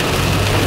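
Rain at Uluru in Australia falls as a dense, steady wash of noise, loud and continuous throughout a short stretch, with no voices.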